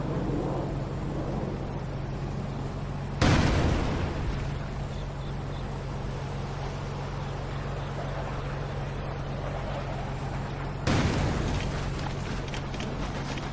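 Frag grenade explosions in the video game Ghost Recon 2: two heavy booms several seconds apart, each rising sharply out of a steady low rumble and fading over about a second.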